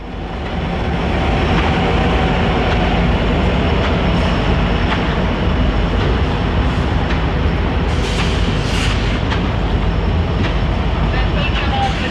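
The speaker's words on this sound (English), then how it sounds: "auto-wreck train 272 would meet the slow-moving train of empty hoppers as it continued east with an SD70 ACC leader on the point" Norfolk Southern freight trains pass at a station, one of them a slow train of empty hoppers led by an SD70ACe, making a loud, steady rumble and rattle of rolling cars that fills the whole stretch, with some clanking near the end.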